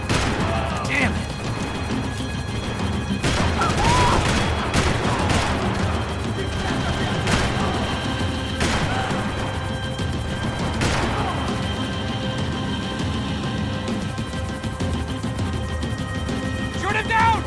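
Gunfire rattles through a Max Payne 3 firefight: sharp, loud shots and bursts come at irregular intervals along with crashing impacts, over a busy background with some speech mixed in.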